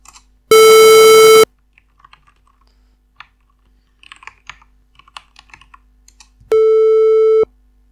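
Two synthesized square wave tones, each buzzing steadily for about a second, are separated by quiet clicking and tapping like keyboard typing.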